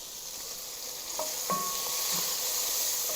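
Onions and garlic cooking in a pan for roasted cauliflower soup, a soft steady sizzle with a few light clinks and stirring taps, close and continuous.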